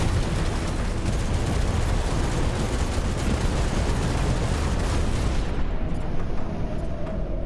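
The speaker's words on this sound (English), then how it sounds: "Look at all those missiles hit there." Missiles striking targets and buildings in the mech strategy game Phantom Brigade, a dense, continuous roar of overlapping explosions and booms that rumbles loudly throughout, then thins abruptly near the end, leaving a quieter tail.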